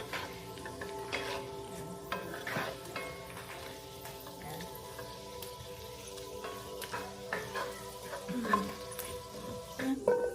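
Steak frying in butter in a pan over low heat, a soft, continuous sizzle with occasional pops and scrapes, fairly quiet and close, with brief speech now and then.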